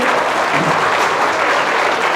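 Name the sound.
audience applause welcoming performers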